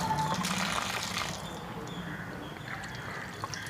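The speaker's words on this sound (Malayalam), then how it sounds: "തനിയെ വെള്ളം വരുന്ന ഒരു ടാപ്പ്." Automatic hand-sensing water tap letting water run in a steady, soft trickling pour, faint and fairly close, easing off slightly partway through with no speech over it.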